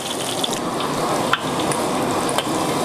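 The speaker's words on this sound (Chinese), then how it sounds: "炸到焦黄，把里面的姜葱那些捞出不要" Ginger, scallion and coriander frying in a wok of oil for a Sichuan cold-eaten spicy chicken dish, a dense, continuous close sizzle with a few faint clinks and stirring scrapes.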